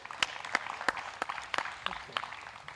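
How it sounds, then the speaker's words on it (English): A small outdoor gallery claps for a disc golf shot at a national championship, scattered sparse hand claps at an uneven pace, moderately distant. "A lot of claps for it."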